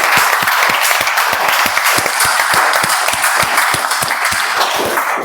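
A Toastmasters meeting audience applauds a speaker, dense clapping sustained and loud throughout with sharp individual claps standing out close by.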